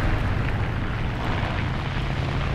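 A P-26B-35 propeller fighter in the War Thunder video game pulls a vertical turn, its engine a dense, loud, steady roar with no talk.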